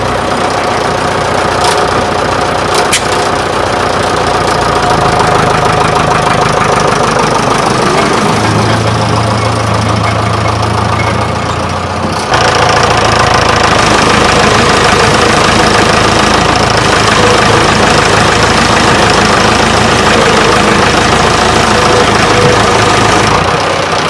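An old tractor engine chugs steadily while pulling a heavy roller, a loud continuous knocking rumble with a shift in tone partway through, no voices.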